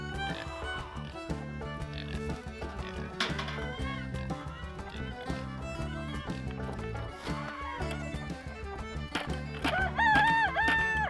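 Rooster crows ring out on a muddy farm where pigs are kept, with drawn-out calls rising over other barnyard noise and animal sounds.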